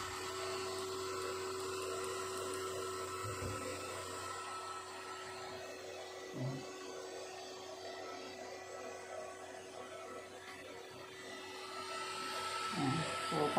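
Exhaust fan of a Powerhouse flux cored welding machine runs as a steady, fairly loud whir with a constant tone, continuous and alone throughout, with a few soft knocks.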